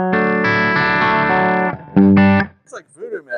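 Electric guitar played through a Victory MK Overdrive amp on its lowest gain setting, ringing sustained chords with a lightly driven, effects-colored tone, then a short stab, before a voice starts talking.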